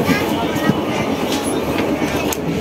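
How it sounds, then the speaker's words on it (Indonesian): The Sri Tanjung passenger train rolls along the rails, heard from inside as a loud continuous rumble with faint rhythmic wheel clacks and occasional squeaks. "di kereta api Sri Tanjung"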